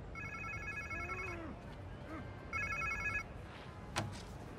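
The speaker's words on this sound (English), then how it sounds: "Sounds like somebody's phone." An electronic phone ringtone in the Spider-Man 2 video game, two bursts of warbling trilled rings separated by a pause, over low ambient game sound with faint voice-like murmurs and a sharp click near the end.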